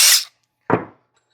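A drill bit bores into a plastic shift knob ball in two short bursts: a sharp, high whine followed after a pause by a lower grinding buzz, both loud and close, with no talking.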